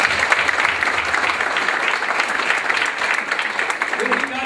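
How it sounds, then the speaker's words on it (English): Audience at a realtors' breakfast applauds Pete in a big, steady round of clapping that fills the room, dense and continuous throughout. "I think Pete deserves a big round of applause"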